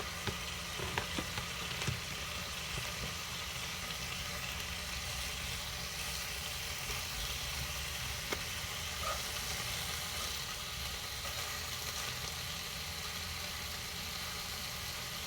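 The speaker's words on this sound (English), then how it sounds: "I'm actually gonna cook all this bacon" A batch of bacon cooking in a pan: an even, continuous sizzle and crackle with a few small pops, steady and moderately close.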